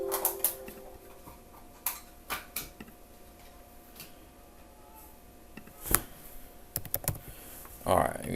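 Clicky computer keyboard keystrokes come in scattered bursts and single taps, close and fairly quiet, as someone enters a search into a game-save editing tool, with a soft voice briefly heard.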